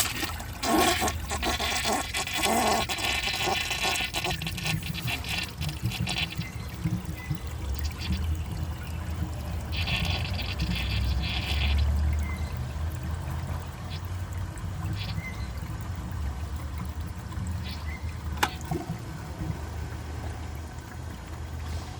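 A WaterRidge one-piece toilet with an overfilled tank flushes in a loud, sustained rush of water that gurgles and swirls steadily for over twenty seconds, heard up close.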